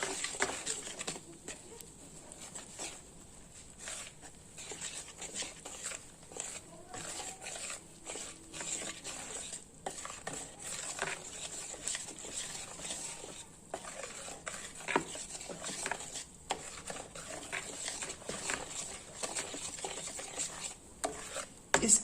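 A whisk mixes plain flour into batter for a vegetable cake, making faint, quick rhythmic tapping and scraping strokes against a bowl that continue steadily and quietly.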